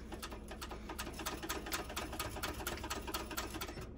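A sewing machine runs steadily while stitching a dart on a fabric bucket bag at a 3.5 stitch length, its needle hammering in a fast, even rhythm that stays close and continuous throughout.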